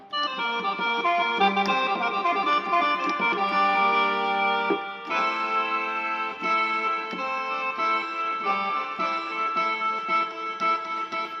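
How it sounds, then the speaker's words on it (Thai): Layered sampled tones from a Yamaha PSR-S670 keyboard play steadily with a rich harmonic timbre, a brief dip near the middle before the sound resumes at similar loudness. "อันนี้คือเสียงแซมนะครับ"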